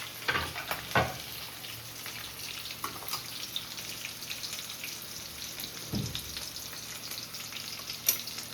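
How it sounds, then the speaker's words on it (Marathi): Mustard seeds and red chili frying in hot oil in a home kitchen for raw mango rice, a quiet steady sizzle with occasional sharper pops and spoon or pan clinks. "टाकू लाल मिरची. येस. फुटली मोहरी."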